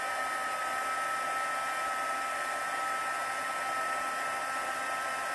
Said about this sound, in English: then we'll use the heat tool to emboss that over